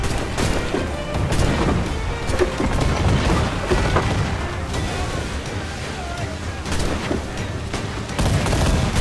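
Ship cannons firing in a naval battle in Assassin's Creed IV, a dense, continuous barrage of booms and crashes under game music and effects throughout, loud and sustained.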